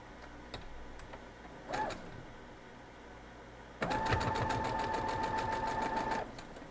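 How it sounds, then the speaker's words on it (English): A sewing machine stitches a small half-square-triangle quilt block, a brief whirring burst followed by a longer steady run of rapid needle clatter with a whining motor tone. "And my final little half square triangle, let's sew it."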